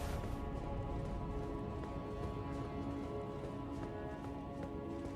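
Horse galloping in the Elden Ring video game, a quick, even clip-clop of hooves running steadily over a constant low game ambience, with no talk.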